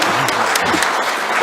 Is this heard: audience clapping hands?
yes